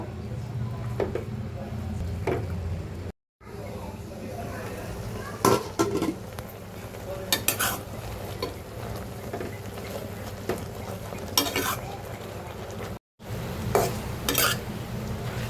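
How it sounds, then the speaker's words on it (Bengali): Taro leaves cooking in a pan, stirred and turned over with a utensil, giving scattered scraping clacks over a low sizzle, with brief pauses and someone talking intermittently. "এখন নিচে থেকে উপরে উঠে উল্টিয়ে পাল্টিয়ে দিব।"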